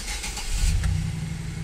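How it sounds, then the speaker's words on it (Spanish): A fuel-injected pickup truck with an electronic throttle starts quickly, its engine catching into a steady, close, low rumbling idle. "Vamos a echar a andar la camioneta y vamos a escuchar qué hace."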